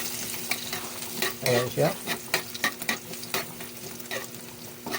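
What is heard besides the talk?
stirring and frying garlic in a pan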